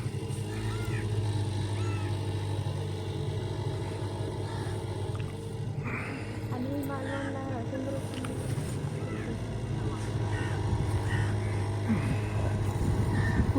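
A rowing boat moves through mangrove backwaters with a steady low hum running throughout, and people talk over it in the background.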